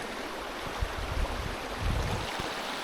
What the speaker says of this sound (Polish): patrzcie, kaskady. Piękne kaskady